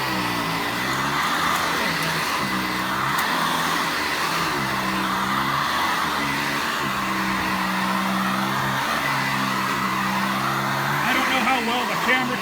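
A Sanitaire SC684 upright vacuum cleaner runs at close range on carpet, its loud steady motor drone continuous for the whole stretch, with a few wavering tonal shifts as the suction setting changes.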